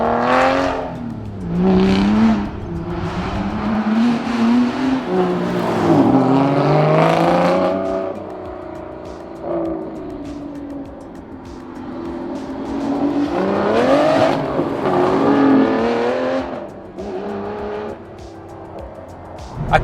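An Aston Martin V12 AMR with a titanium exhaust revs and accelerates in waves, its engine note rising and falling through several loud pulls with sharp blips and brief lulls between them.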